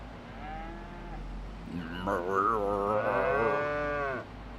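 Cattle in the Farming Simulator 25 video game, on a Highlands map, let out a long, loud, drawn-out moo that rises and wavers, with a fainter lowing call just before it.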